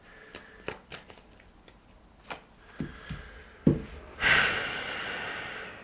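Tarot cards being shuffled by hand: scattered soft taps and riffles, then a brief fluttering burst near the end, quiet and close with no talking.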